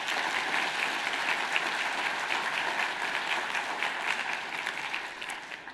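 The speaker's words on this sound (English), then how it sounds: "Let's give them a round of applause." An audience at a teen runway fashion show at the Virginia Museum of Fine Arts gives a sustained, even round of applause lasting nearly six seconds, with no voices rising above the clapping.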